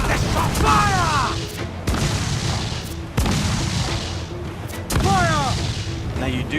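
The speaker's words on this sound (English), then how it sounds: "Now you do have 2 different ways to shoot your side cannons." Ship side cannons firing in Assassin's Creed IV Black Flag, a series of four heavy booming volleys roughly every one and a half seconds, loud and close, with shouting crew and seabird-like calls in between.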